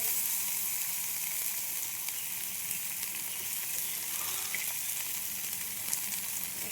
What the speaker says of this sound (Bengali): ये भूनना नहीं है, सिर्फ सौटे करना है।